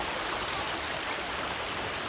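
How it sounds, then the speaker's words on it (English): Steady rushing water from a tall waterfall fills the scene as a constant, even broadband roar, with no voices over it. "Look at the waterfall."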